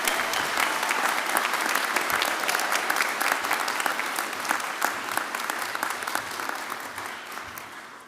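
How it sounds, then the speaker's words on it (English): A large audience at a university graduation ceremony applauds the new graduates, thick sustained clapping with distinct sharp claps scattered through, steady for about eight seconds and tapering slightly toward the end. "Everybody, can you please give our graduates a big round of applause?"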